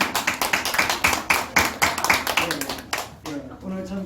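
Congregation clapping in a Korean church after thanks to a summer Bible school mission team, a fairly quick, even run of hand claps for about three seconds, then fading as a voice begins speaking.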